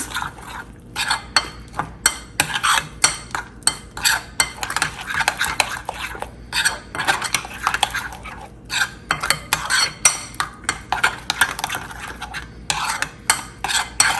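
Spice masala for tandoori chicken mixed in a bowl, a rhythmic run of scraping and clinking spoon strokes against the bowl with short pauses between, close and clear.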